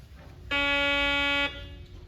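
A walk-through metal detector gives a single loud, steady electronic beep lasting about one second, starting and stopping abruptly against a low background hum.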